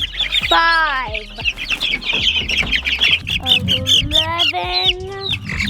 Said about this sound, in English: You see, these are our young layer chicks.